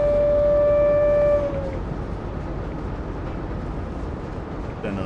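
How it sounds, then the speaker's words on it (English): A CSX heavy-haul locomotive whistle in Train Sim World gives one loud, steady harmonic blast lasting over a second, then cuts off and leaves a low rumble of the train rolling alone. "Oh, sound the whistle."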